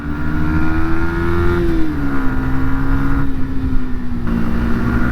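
A 2023 Yamaha MT125 or R125 motorcycle engine, a 125 cc unit that revs to 13,000 rpm, holds a loud, close, high-pitched steady drone whose pitch dips slightly and levels off, with no voices.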